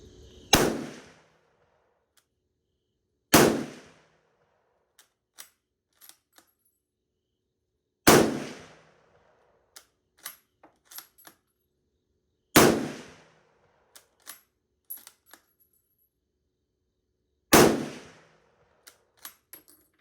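Five loud, sharp rifle shots from a K98 fired toward a 100-yard target come several seconds apart, each followed by a short decay and small metallic clinks of the bolt and ejected brass between shots.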